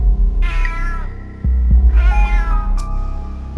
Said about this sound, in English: Meow twice if you understand.